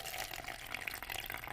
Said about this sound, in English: if you want a longer video of the water pouring here